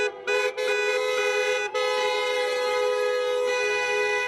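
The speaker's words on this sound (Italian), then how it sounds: "suonano i clacson per le strade" Car horns honk continuously in the streets of Treviso during a celebration of the basketball team's promotion to Serie A, several loud overlapping blasts merging into a sustained blare with brief gaps early on.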